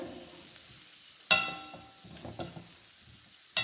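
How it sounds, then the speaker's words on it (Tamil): Grated coconut sautéing in a pan on the stove, with quiet scraping and stirring, low crackle and a couple of sharp clinks of a spatula against the pan. "நல்லா தேங்காய் வதங்கி போச்சு"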